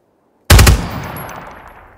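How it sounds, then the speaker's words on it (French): A machine gun fires in the tactical shooter Ground Branch: one sharp, loud burst of about four rapid rounds breaks the silence and then rings out in a long, fading echo. "C'est un peu loin peut-être pour la mitrailleuse."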